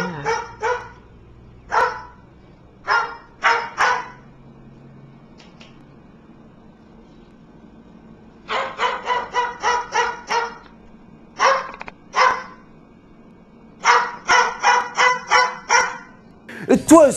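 A comedic parrot-dog barks in repeated short bursts, single barks at first, then quick runs of rapid barks, loud and close over a quiet background.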